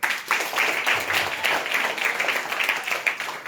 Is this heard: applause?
yes